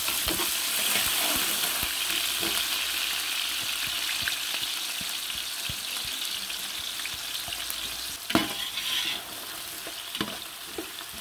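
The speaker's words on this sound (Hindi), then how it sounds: "अब इस स्टेज पे आपने प्याज ऐड कर देना" Sliced onions fry in oil for a roasted chicken pulao. A constant bright sizzle is broken by scattered stirring scrapes, with a louder clatter partway through.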